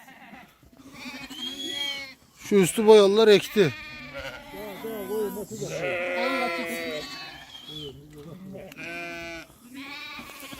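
A flock of sheep and lambs bleat repeatedly, with several loud, close calls overlapping in the middle, while people talk and call out throughout.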